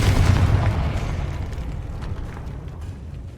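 A Confringo fire spell in the Hogwarts Legacy video game bursts with a heavy boom at the start, then tails off into a rumbling, crackling decay over a few seconds.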